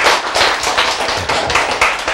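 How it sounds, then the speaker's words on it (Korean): Audience clapping in a steady burst of many hands, close and fairly loud, with rhythmic swells throughout and no talking over it. "이 박수 한번 쳐야 돼요"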